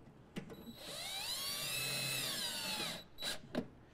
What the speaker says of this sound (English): We're gonna drill that into place, put screws in all four holes